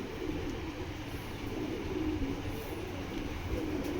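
Foreign-breed pigeons cooing softly and continuously against a steady low rumble of background noise, the calls blending into a dense murmur with no distinct separate notes.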